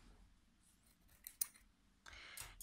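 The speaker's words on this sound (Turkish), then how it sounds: "İpimi buradan kesiyorum" Scissors snip through crochet yarn at the end of a finished row, a couple of quiet, close, crisp cuts and a faint click in an otherwise hushed room, with no talk.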